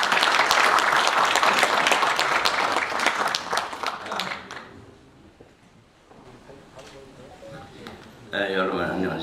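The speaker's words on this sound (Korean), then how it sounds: "자, 큰 박수를 모시겠습니다" Loud applause from a large audience at a formal commemoration ceremony in Korea, dense clapping for about four seconds that thins and fades out, followed by a voice starting to talk.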